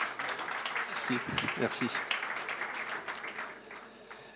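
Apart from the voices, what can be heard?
audience applause at a conference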